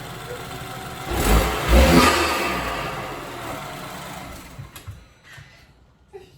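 A BMW F30 engine fitted with an MST performance intake revs sharply twice in quick succession, loud and close, then settles and fades to quiet with a few small clicks.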